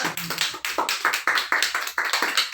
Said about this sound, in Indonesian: Berikan aplaus untuk Hairul